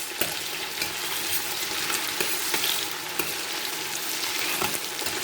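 Spinach sauce ingredients with onions saute in a pan, a close, steady frying sizzle with occasional sharp stirring clicks against the pan and no talking.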